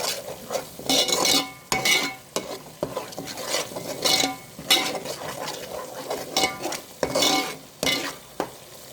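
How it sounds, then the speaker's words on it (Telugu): Masala with turmeric frying in oil for a chicken gongura gravy curry, stirred with a spoon scraping and clinking against the pan in repeated bursts over a steady close sizzle, with no talk. "మసాలా చక్కగా ఆయిల్లో ఫ్రై అవ్వాలి"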